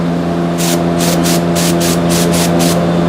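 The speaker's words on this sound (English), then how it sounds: "I'm gonna spray it again." Repeated short bursts of aerosol spray during a Subaru Legacy brake pad replacement, about eight quick hissing puffs in a loose rhythm, close and loud over a steady mechanical hum.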